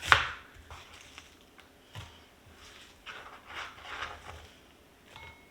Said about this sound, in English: So it says to slice an onion, and it says a whole onion, but this is quite a large onion